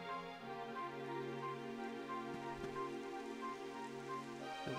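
Rain in Dragon Quest XI as a faint, steady patter beneath sustained game music tones, quiet and continuous with a brief low thump midway.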